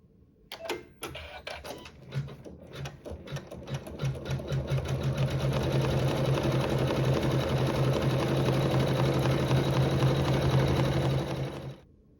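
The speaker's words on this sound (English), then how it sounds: "we'll sew some quilting over fabrics 1 and 2 up here" A sewing machine stitches quilting lines through layered fabric, starting with a few separate clunks and then running in a fast, even, mechanical rattle that holds for several seconds before stopping.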